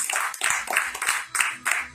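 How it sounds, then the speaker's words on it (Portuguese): A church congregation claps in quick, uneven bursts, the applause rising and dipping in short waves at close range. "Uma salva de palmas para Jesus."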